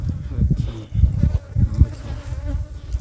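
Close, dense buzzing of many honey bees droning continuously near a hive, with a low rumble underneath and no voices.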